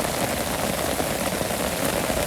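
Rain pours steadily over a Bangladeshi village in the rainy season, an unbroken hiss and patter of drops close by and alone.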